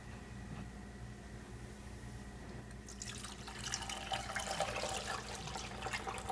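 Coolant is poured into the expansion tank of a Mercedes W163 ML-Class (ML500/ML350). A steady, splashy liquid gurgle swells in partway through over a faint background hum.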